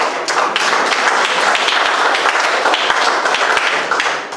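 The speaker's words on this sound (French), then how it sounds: "Vous pouvez aussi les applaudir" An audience at a coding bootcamp demo day in Mauritius claps together in sustained, dense applause, loud and steady throughout before easing slightly at the end.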